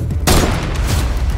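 Gunfire in a Fortnite match breaks out abruptly after a brief lull, a loud, dense burst of rapid shots that continues as a sustained, close fusillade.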